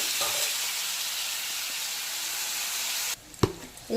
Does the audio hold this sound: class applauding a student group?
no